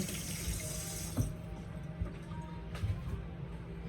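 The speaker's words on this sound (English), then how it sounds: "Let me rinse my hands because I cannot stand sticky hands." Tap water runs steadily over hands to rinse off sticky honey, a close broadband rush that eases after about a second into a quieter trickle with a few small splashes.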